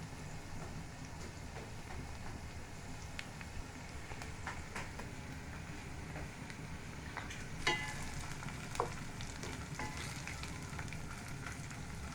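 Ginger garlic paste frying with onions for pulao, a continuous low sizzle with a couple of faint utensil clicks, no talk.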